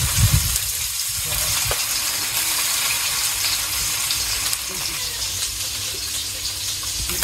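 Fish frying in hot oil in a pan, a dense continuous sizzle and crackle heard up close from start to finish, with no one speaking.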